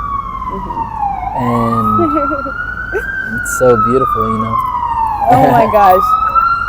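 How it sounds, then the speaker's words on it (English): An ambulance siren passes outside on a New York street, loud and wailing with rising and falling sweeps, while people talk close by over it. "I'm like, should I wait for the ambulance?"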